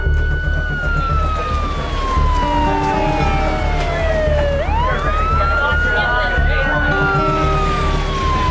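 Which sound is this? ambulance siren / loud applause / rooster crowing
ambulance siren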